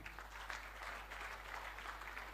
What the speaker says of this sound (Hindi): इनके लिए तो तालियां बनती भाई।